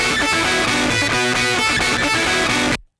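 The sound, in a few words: guitar through Culture Vulture with overdrive button engaged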